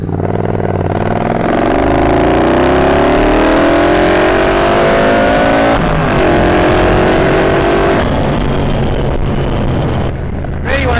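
A boosted Triumph Bobber motorcycle accelerates hard in second gear, its engine note climbing steadily and loud up close, with a brief dip partway through before the revs climb again.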